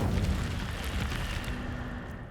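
Incendio fire spell cast in Hogwarts Legacy, a sustained roaring burst of fire that rumbles steadily and loudly for a couple of seconds with no voices.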